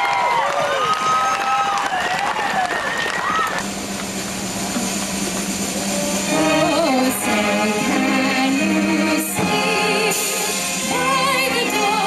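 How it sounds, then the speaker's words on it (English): Crowd cheering and applauding for graduating Wentworth Military Academy cadets, a dense roar of clapping and shouts that runs the whole stretch, with an amplified voice and whoops rising over it at the start. "Big round of applause, ladies and gentlemen."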